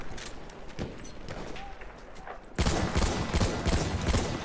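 Gunfire in the Battlefield 1 video game: a muffled stretch of distant shots gives way to a sudden loud, dense burst of rapid automatic fire that keeps rattling to the end.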